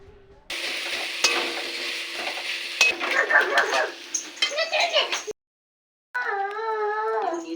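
Capsicum and pea curry stirred and sizzling in a pan, a steady crackle with spoon scrapes, then a short silence before a dog yips and whines nearby at the end.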